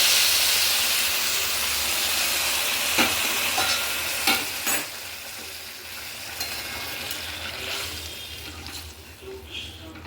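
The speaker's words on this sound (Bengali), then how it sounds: "এবার গরম জলটা আমি ঢেলে দিলাম।" Hot water poured over rice already fried in a pot for basanti pulao, giving a loud, steady steaming hiss and sizzle with a few sharp clinks and bumps, easing slightly toward the end.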